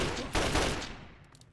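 Gunfire in the video game Fallout 3, a dense rattling volley of shots fading out over a second and a half, loud and close, no talk.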